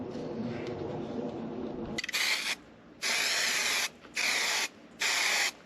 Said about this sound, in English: I'm going to put a little etchant primer on this bare metal